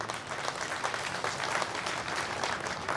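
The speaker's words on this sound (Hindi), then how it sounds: "उनके लिए भी जोरदार तालियां होनी चाहिए।" Loud, sustained applause from an audience at an Indian political party rally in Vijaypur, dense clapping filling the whole stretch without letup.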